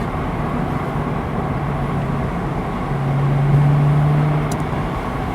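A 2009 Porsche Carrera 4S (997.2) engine holds a steady, droning note in third gear on a local road, swelling slightly toward the end over continuous road and tyre noise.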